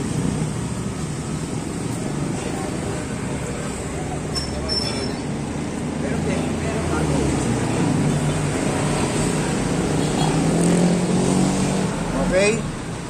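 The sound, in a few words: TMX155 motorcycle engine revving in third gear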